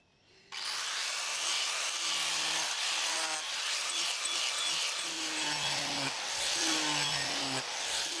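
An angle grinder with its guard removed shapes a curved backrest from scrap wood for a retro swivel chair, a steady, loud abrasive grinding and rasping that runs nearly unbroken after a sudden start, with shifting pitch as the disc bites.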